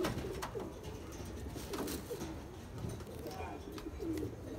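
Nagpuri gire baaz pigeons of the sabza variety coo softly and repeatedly, with low, rolling calls recurring over a faint ambient hiss.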